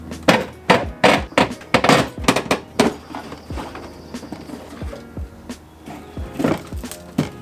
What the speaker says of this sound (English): the last thing there is to do is to just pull the whole bumper off of there.